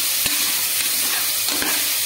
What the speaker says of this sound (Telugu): వీటిని కొద్దిసేపు బాగా వేగనివ్వాలి.